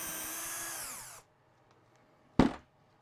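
Power drill boring a 3mm hole through a workbench top, a loud steady whine that winds down and stops, followed by silence and a short sharp burst as the bit spins up again.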